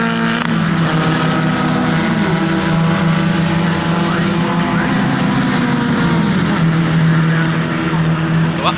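Formula Vee race cars compete at Donington Park, their engines a loud continuous droning roar with shifting pitch as they pass, while a commentator's voice runs underneath.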